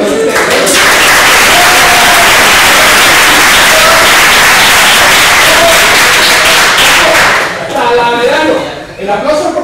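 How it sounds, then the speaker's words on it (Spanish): A local audience gathered for an event about Talavera businesses bursts into loud, dense, sustained applause. The clapping tails off near the end as voices begin to break through. "El aplauso es porque es Talaverano."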